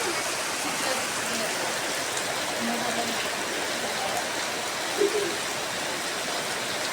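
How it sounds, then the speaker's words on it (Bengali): Steady rainfall after a storm, the kind that knocks out the power, makes a dense, continuous hiss of drops on surfaces, fairly close and even throughout, with a faint voice now and then. "ঝড়ের পর বৃষ্টি শুরু হয়ে গেছে।"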